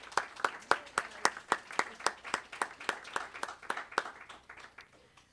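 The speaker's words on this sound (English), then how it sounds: "a round of applause for the Creating Peace Project Committee." A small audience claps for a peace project committee at an International Day of Peace forum, about twenty fairly slow, distinct claps in a steady rhythm that thin out and stop.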